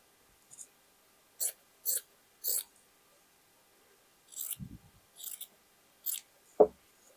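Scissors snip through dress fabric in a series of crisp, close cuts, a few single snips followed by quicker double and triple bursts, ending on one sharper clip, with quiet pauses between.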